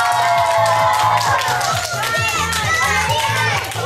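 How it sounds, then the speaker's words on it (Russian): Children's audience at a Christmas tree contest, clapping and cheering loudly together as a vote, mixed with excited kids' voices and a rhythmic music beat underneath. "Все решим по вашим аплодисментам."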